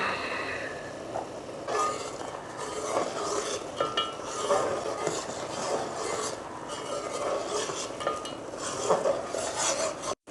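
A spoon scrapes and stirs a sugary boondi laddu mixture in a metal pan for Diwali sweets, making continuous rough, gritty scraping with soft clinks at close range and no talking.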